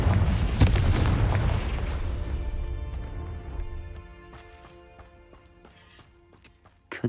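Confringo blasting-spell explosion in the video game Hogwarts Legacy: a loud booming blast that slowly decays into scattered crackles and debris ticks, ending with a small pop.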